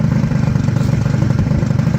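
An Arctic Cat 90cc youth ATV engine runs close by with a steady, rapid chugging putter as it pulls away, its even pulsing rhythm loud and unbroken, with no talking.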